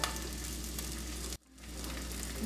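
Chorizo sizzles and spits steadily in a hot pan, a close, continuous crackle that drops out briefly midway and then swells back in.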